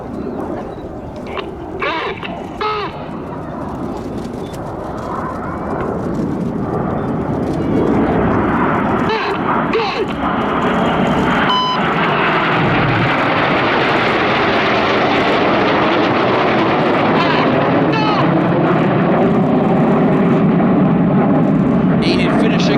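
Red Arrows jets fly aerobatic rollbacks at an air show, their engines building from a distant roar to a loud, sustained rumbling wash that fills the air.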